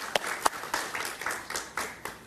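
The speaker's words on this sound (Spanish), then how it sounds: "Sí, un aplauso para Paquita" Applause for Paquita Cabrera from a studio audience, a short scatter of claps with a few sharp loud hits early, settling into lighter patter over about two seconds.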